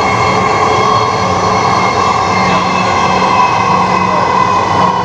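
A Dhaka Metro Rail train heading for Agargaon, heard from inside the carriage as a steady, loud rumble with a continuous high whine from the motors, unbroken for the whole stretch.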